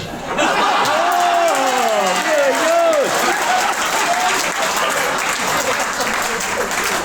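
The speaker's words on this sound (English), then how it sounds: "Give him a clap, everybody" Wedding guests at a reception applaud loudly and steadily, a continuous roar of clapping mixed with laughter and cheering voices rising over it early on.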